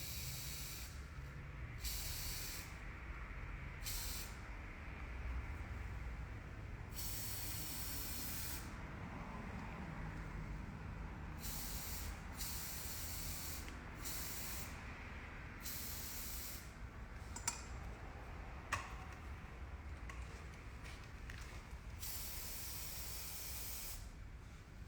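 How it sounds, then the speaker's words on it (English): Hairspray is fanned onto hair in repeated short hissing bursts, some quick and some drawn out, broken by brief pauses and sounding soft and close. "You use the hairspray and just fan it out."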